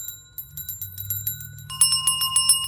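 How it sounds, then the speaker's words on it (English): A bigger hand bell from a market stall rings, then a second higher, brighter bell joins in with quick repeated strikes, both close and loud with no talk. "This is from Thorn and Moon Market, the bigger bell"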